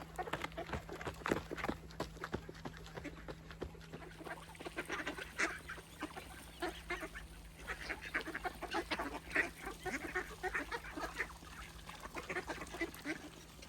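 Ducks and geese quacking and honking in a busy outdoor flock, calls overlapping continuously with some louder honks near the start, set against a steady low hum.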